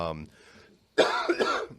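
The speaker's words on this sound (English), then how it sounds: "Excuse me, I'm going to cough a lot." A brief throat-clearing cough follows a short bit of voice, close and fairly loud.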